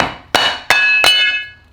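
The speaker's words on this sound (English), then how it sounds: "Make sure you're just malleting this right here." A mallet strikes a suspension part on a BMW G87 M2 during a KW HAS kit install, three loud metallic blows about a third of a second apart, each leaving a ringing tone that fades out.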